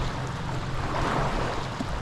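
Wind blows steadily across the microphone at Cultus Lake, British Columbia, a continuous low rumbling buffet with broadband rush and no clear gaps.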